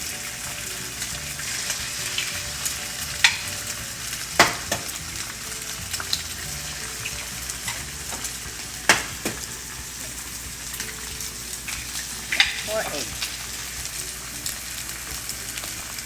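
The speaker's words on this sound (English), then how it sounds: "So now we're gonna cook the egg." Egg sizzling and frying in a pan alongside SPAM meat pushed to the side for fried rice, a steady crackling hiss throughout with a few sharp utensil clicks and scrapes.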